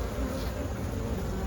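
Honeybees swarm around an opened hive late in the day, a jumpy colony giving off a dense, steady, close buzz with no break throughout.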